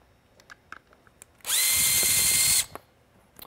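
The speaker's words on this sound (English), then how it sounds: "4 screws hold the electronic portion here to the bezel, so I'll go ahead, remove those" Power screwdriver backing out one of the four screws that hold the electronic portion of a Whelen Perimeter Enhancement Light to its bezel, a single loud high whine of about a second, close up, with faint handling clicks before and after.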